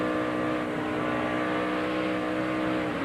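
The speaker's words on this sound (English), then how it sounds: "Hear him playing with the throttle" A race car engine drones steadily in a loud, continuous roar as the driver works the throttle under a caution period, the pitch wavering slightly with no distinct revs and no talk.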